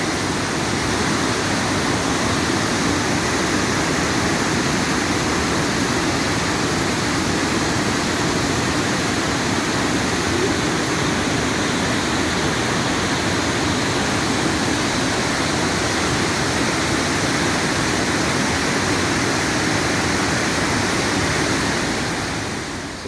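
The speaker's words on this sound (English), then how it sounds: "Kakabeka Falls and the Kaministiquia River, just west of Thunder Bay." Kakabeka Falls on the Kaministiquia River roars as a dense, steady wall of rushing water, loud and unbroken throughout with no voices.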